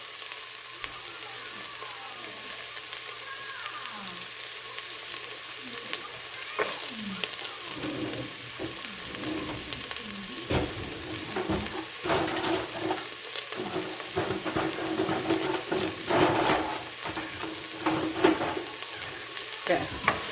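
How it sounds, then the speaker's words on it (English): Chopped onions and celery sauté in a hot pan, giving a steady crackling sizzle throughout with occasional louder pops and scraping stirs, close and unbroken, with no talking. "Okay, and then I'm gonna just kind of stir that around, let it all get some sizzle going."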